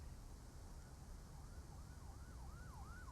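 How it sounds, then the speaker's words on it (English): Faint police sirens wail far off in Counter-Strike, rising and falling in a steady pattern beneath a dense, constant background wash. "Cops rolling their sirens off in the distance, Henry."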